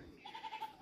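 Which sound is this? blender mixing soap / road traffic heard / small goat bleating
small goat bleating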